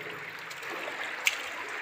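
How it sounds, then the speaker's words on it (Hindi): Water flowing continuously inside the Patala Ganga cave, a steady soft rushing wash with one brief sharp splash or click near the end. "ये शंकर जी की जटाएं अविरल धारा इसमें बह रही है"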